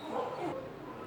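Dogs bark and yip in a short, continuous, fairly loud burst, mixed with muffled background noise.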